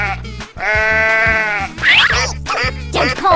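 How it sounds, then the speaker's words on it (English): Sheep bleats from a 3D animal video game: a long wavering bleat over a steady thumping music beat, followed by shorter bleats, loud and close. "Sheep."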